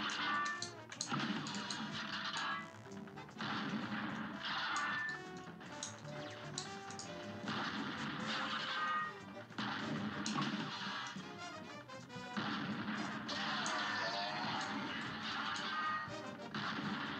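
Rapid cartoon shooting and impact crashes from the run-and-gun game Cuphead fill the scene continuously, loud and dense over bouncy music, with repeated whacks and clatter throughout.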